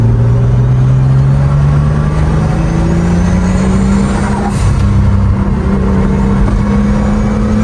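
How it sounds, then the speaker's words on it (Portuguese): A 1976 Porsche 911 Turbo (930) accelerating hard, its engine note climbing steadily in pitch as a loud, close, continuous roar with no voices. "ele segue acelerando o seu 930 diariamente"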